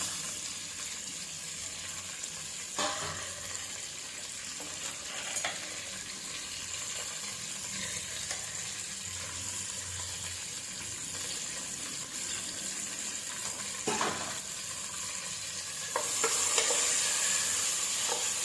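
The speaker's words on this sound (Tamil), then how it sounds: "ஸோ அது எல்லாத்தையும் போட்டு அது கூடவே அப்படியே வதக்கிக்கலாம்." Potato, beans and green peas sautéing in a pan for vegetable pulao, a steady broadband sizzle with occasional scraping strokes of a spatula, fairly close and continuous.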